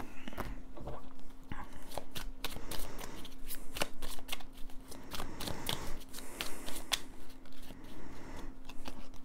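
Oracle cards are shuffled by hand in quick repeated riffles and slides, crisp papery flutters and taps close up, coming in bursts with short pauses and a faint background hum.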